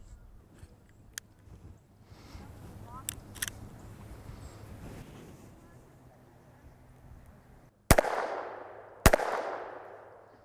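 Students shooting guns at an outdoor gun range, with two loud, sharp gunshots near the end that ring out with a long fading echo, after a stretch of faint background noise and small clicks.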